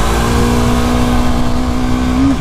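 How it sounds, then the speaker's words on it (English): BS6 Jawa motorcycle under hard acceleration during an acceleration test, a loud close engine drone holding a steady pitch throughout, with a slight rise at the very end and no talk. "Let me do an acceleration test."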